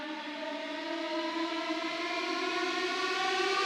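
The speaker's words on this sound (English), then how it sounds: "This is called the Movie Horrorizer, and if you pitch bend it up, you get a very scary sound." A Movie Horrorizer synth preset from a Serum symphony pack, pitch-bent upward into a sustained, rising, siren-like drone that swells steadily louder, eerie and alone.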